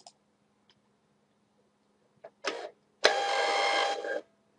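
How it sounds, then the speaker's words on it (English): A roll-fed thermal label printer prints an FBA shipping label, starting with a few faint clicks and a short whir, then about a second of steady, loud mechanical feeding buzz that stops abruptly. "you'll be able to see the printer at work"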